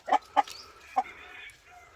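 A brooding Rhode Island Red hen with her three chicks gives a few short, close clucks in quick succession, then faint thin peeping trails off in an otherwise quiet setting.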